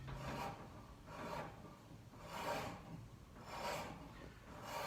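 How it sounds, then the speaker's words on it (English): A spokeshave scrapes along a wooden canoe paddle handle in four slow, rhythmic rasping strokes, quiet and close, with no talking. "when you use one of these spoke shaves, they're pretty versatile"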